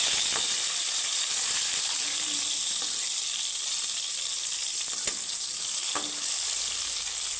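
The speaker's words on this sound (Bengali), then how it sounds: "উল্টে পাল্টে একটু লাল লাল করে ভেজে নেবে দেখো বেগুনগুলো" Eggplant pieces fry in hot oil, giving a constant close hiss and crackle, with occasional faint clicks of stirring and no voices.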